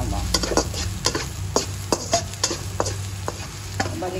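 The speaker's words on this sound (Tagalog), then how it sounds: "Hindi lang kailangan i-brown natin yung ating bawang." Garlic frying in a pan for a Filipino minudo, with a steady low sizzle under repeated sharp scrapes and taps of a spatula against the pan at a fairly even rhythm.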